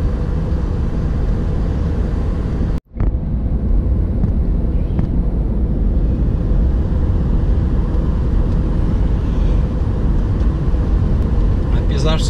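Oncoming car sweeping past on an open highway, a brief sharp whoosh cutting across the steady loud road and wind roar inside a moving vehicle, followed by continued cabin drone.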